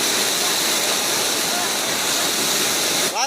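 The Dhatarwadi river at Piplava village runs in full flood after heavy first rains, a loud, unbroken roar of rushing water that holds steady throughout.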